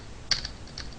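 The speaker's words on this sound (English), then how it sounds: "let me type it right, system.out.print." A computer keyboard clicks as a few quick, crisp keystrokes land in two small bursts while Java code is typed, close and alone over a faint background hiss.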